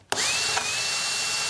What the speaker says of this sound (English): let's drill a hole for the wires